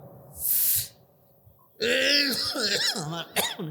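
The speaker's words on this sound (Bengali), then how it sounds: "আর এমনি জ্বর তো, মানে কাশি হচ্ছে" A person with a fever coughs a few times in a rural setting, a short rough burst followed after a pause by louder throaty coughing and clearing, close to the microphone.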